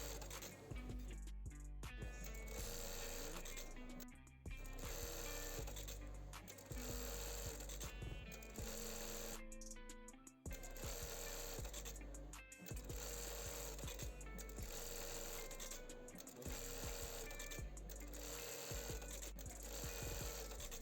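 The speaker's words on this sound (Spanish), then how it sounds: "Vamos a realizar la prueba de costura." A Brother 430D industrial bar-tacking sewing machine runs a test stitch, a loud continuous mechanical whir with rapid rhythmic needle clatter and brief pauses between bursts, close up with no talking.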